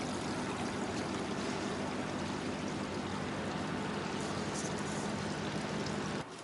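Jacuzzi water bubbling on a cruise ship pool deck aboard the Windstar Star Breeze, a constant broadband rushing wash of churning water, faint and even throughout with no voices.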